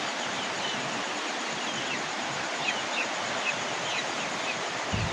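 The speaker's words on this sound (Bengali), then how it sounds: "বাইরে প্রচুর বৃষ্টি, আপনারা হয়তো বৃষ্টির শব্দ শুনতে পাইতেছেন" Heavy rain pours outside a desi chicken farm in Barisal, a steady dense hiss that holds evenly throughout with no breaks, close and fairly loud, with faint chick peeps now and then.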